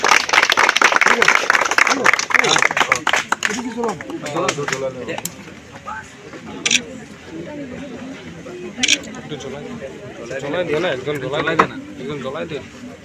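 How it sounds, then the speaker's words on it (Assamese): A college audience of students claps loudly for a teacher in a dense burst that fades after a few seconds. Crowd chatter and voices continue over the room afterward. "ছাৰৰ কাৰণে এবাৰ জোৰকৈ হাত চাপৰি হৈ যাব লাগে"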